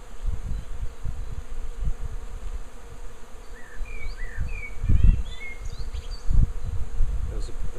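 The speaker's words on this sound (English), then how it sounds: "quite a few bees in the basket, which I'm now going to tip into the" Swarm of honeybees being tipped from a swarm basket into a hive, a close continuous buzzing with scattered bees flying past, plus a few soft knocks and rustles.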